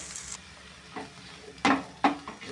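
Broken dried red chillies fry in a pan with a soft, steady sizzle, broken by two brief stirring knocks near the end.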